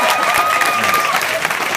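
A theater audience breaks into dense, sustained applause, a steady wash of clapping hands filling the room at close range with no pauses.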